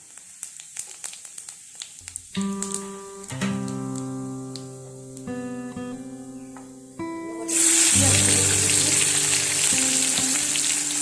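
Whole cumin seeds hit hot oil in a kadai and sizzle in a loud, steady hiss that swells sharply near the end, with music playing underneath throughout.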